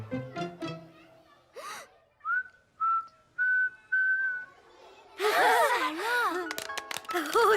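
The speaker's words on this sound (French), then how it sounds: "Tu as appris à siffler." A child whistles a series of short, clear, separate notes, then a longer wavering whistled tune that rises and falls, with a few breathy sounds at the start.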